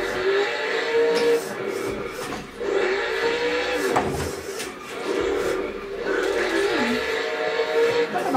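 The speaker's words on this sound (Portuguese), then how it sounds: "Ligou o carro," A drift-practice car engine fires up and is revved. It holds a loud, wavering engine note that rises and falls, with a brief dip in the middle, close to the microphone.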